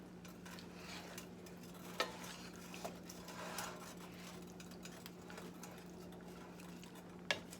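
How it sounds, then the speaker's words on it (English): Spatula stirring shrimp and broccoli in a pan, a soft continuous scraping and light sizzle with a couple of sharper clicks of utensil on metal, fairly quiet and close, no talking. "And then we just going to stir all of that in"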